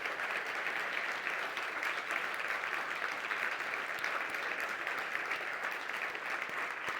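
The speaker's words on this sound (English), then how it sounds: "I want you all to give them a round of applause" An audience at a leadership conference's closing session applauds the organizing team, a steady dense round of clapping that stays fairly distant and soft from start to finish.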